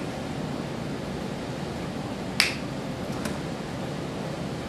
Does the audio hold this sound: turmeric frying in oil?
no